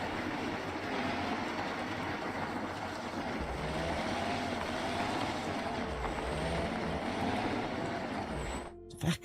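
A loud vehicle engine from the hunting video game Way of the Hunter, a steady rumbling drone for about nine seconds with no talking, ending abruptly.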